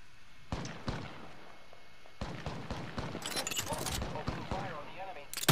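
Gunfire from a battle in the Apex Legends video game, with repeated sharp shots and bursts cracking close by and continuing across the span while voices talk over the action.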